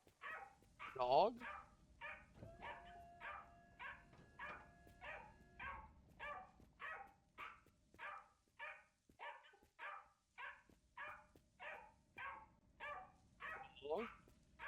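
A pug dog in the Drive Beyond Horizons video game gives a steady run of evenly spaced, quiet barks and yips, repeating about once a second for the whole stretch.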